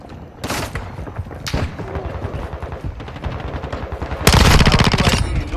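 A P90 submachine gun fires in Modern Warfare II (2022), loud rapid bursts of automatic fire with game callout voices, ending in a sustained, louder burst.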